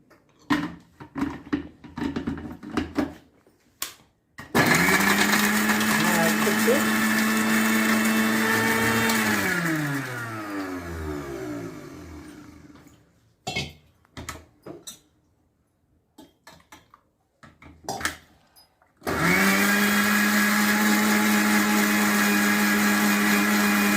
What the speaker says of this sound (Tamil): நீங்கள் மிக்சியில் போட்டு அரைச்சிடுங்க